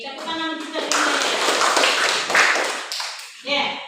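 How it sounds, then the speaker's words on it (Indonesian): Classroom clapping from students, a burst of hand claps that swells and holds for a few seconds, with a teacher's voice speaking before and after it. "Tepuk tangan kita dulu"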